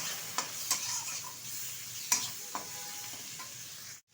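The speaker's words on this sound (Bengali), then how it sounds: "বেছে রাখা চিংড়ি মাছ হালকা করে ভেজে নেবো চিংড়ি মাছটা" Shrimp fry in oil in a pan, a steady soft sizzle with several sharp scraping clicks of the spatula as they are stirred, close and fairly quiet, ending abruptly.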